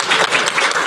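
Audience at a high school technical graduation ceremony applauds, dense clapping from a crowd filling the whole brief moment at steady volume.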